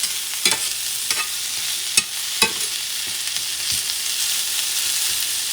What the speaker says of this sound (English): and saute those onions, okay?